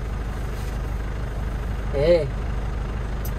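Isuzu Elf NHR 55 short truck engine running at a low, steady hum beneath someone talking, with a brief brighter swell partway through.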